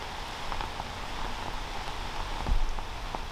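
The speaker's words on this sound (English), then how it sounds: "A little bit of a tester with the rain," Steady rain falling outdoors during a disc golf tournament round, a soft, even hiss with scattered drop patters and a brief louder patch near the end.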